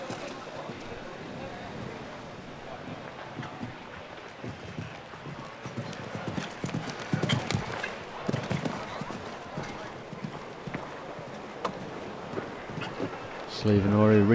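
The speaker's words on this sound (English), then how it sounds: "Slievenora, the 12-year-old Irish sport horse" Hooves of a 12-year-old Irish sport horse clip-clopping around a grand prix show-jumping ring, with steady outdoor wind noise and a commentator talking over the footfalls throughout.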